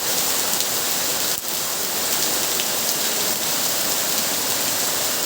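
Heavy downpour during flooding in Noakhali town: dense, loud, constant hiss of rain with no break.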